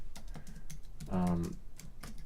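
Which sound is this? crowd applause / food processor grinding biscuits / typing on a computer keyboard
typing on a computer keyboard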